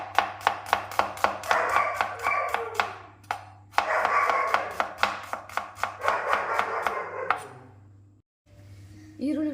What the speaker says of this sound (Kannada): ಇದಿಷ್ಟೀಗ ಕಟ್ ಮಾಡ್ಕೊಳ್ತೀನಿ.